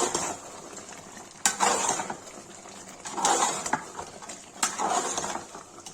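A spoon stirs mutton masala gravy in a cooking pot after red chilli goes in, giving three separate scraping, sizzling strokes. Each one starts with a sharp clink against the metal, and a low background hiss carries on between them.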